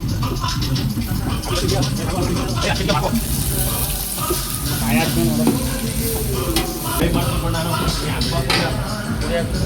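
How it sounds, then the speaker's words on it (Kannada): Onions frying in oil give off a dense, continuous sizzle with stirring noises, loud and close, while someone talks over it throughout. "ಇಲ್ಲೂ ಈರುಳ್ಳಿನ ಕೆಂಪಾಗಿ ಫ್ರೈ ಮಾಡ್ಕೋಬೇಕು ಚೆನ್ನಾಗಿ."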